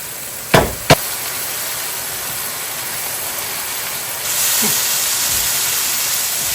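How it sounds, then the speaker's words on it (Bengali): Spice masala with turmeric and coriander powder frying in a pan: two sharp knocks of a utensil, then a steady hiss that swells louder partway through and continues to the end, with no talking. "মশলাটা ভালো করে কষিয়ে নেব"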